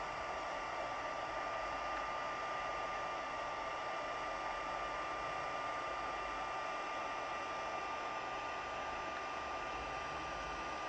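A heat tool blows steadily while setting ink on a craft project, producing an even, unbroken whooshing hiss with a faint whine, close and constant throughout.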